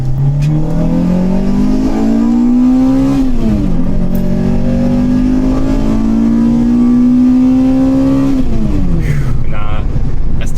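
Toyota Celica GT-S engine revving loudly up through the rpm range, twice dropping sharply as gears shift on the 1-2 change, then climbing again, close and steady throughout with no talk.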